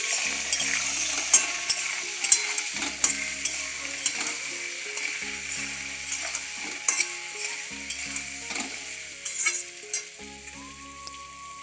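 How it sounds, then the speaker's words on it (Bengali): Potatoes fry with salt and turmeric in a pan while a spoon stirs them, steady sizzling broken by repeated scrapes and light clinks of metal against the pan. "আবারও ভালোভাবে একটু আমি নাড়াচাড়া করে নিব"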